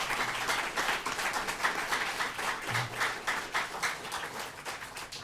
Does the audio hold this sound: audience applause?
yes